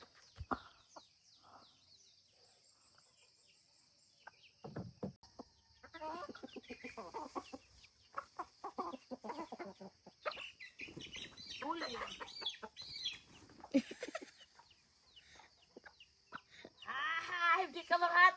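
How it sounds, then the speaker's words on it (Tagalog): A mother hen with chicks clucks in a backyard, giving scattered bursts of close, rapid clucks and calls that grow busier toward the end, mixed with intermittent talking nearby. "Manok."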